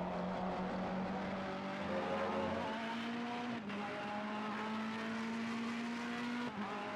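A race car engine in the Assetto Corsa racing game drones steadily as it holds a sustained pitch, with brief dips where the gears shift, loud and continuous with no talking.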